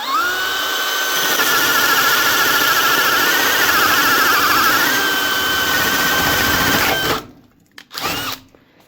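A power drill fitted with a Jorgensen 1.5-inch spade bit bores through an ordinary 2x4 stud, whining loud and close for about seven seconds before stopping abruptly, followed by a few brief clunks.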